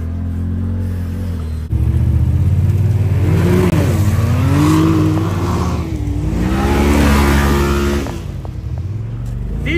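A Can-Am side-by-side on a trail ride, its engine close and loud, revving and dropping repeatedly with rising and falling pitch under heavy throttle for several seconds.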